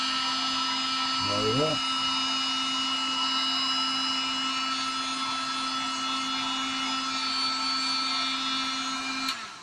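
A heat gun blowing steadily while heating a part during a damp repair on a Talbot Express Highlander motorhome, a constant close airy whine running throughout, with someone speaking briefly over it.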